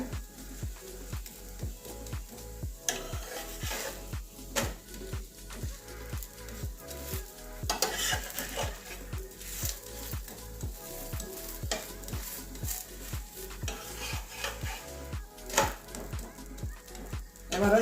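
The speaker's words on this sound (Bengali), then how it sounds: "বাকি কটাও এইভাবেই ভেজে নেব একটু হালকা" Bottle gourd pitha frying in oil in a pan, a continuous sizzle punctuated by regular scraping stirs and clinks, close and fairly quiet, with no talking.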